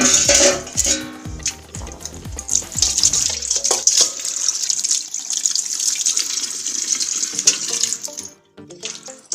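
Tap water pouring into a sink while flour dough is washed by hand, a loud steady splash with faint clinks of a bowl, then the flow cuts off near the end.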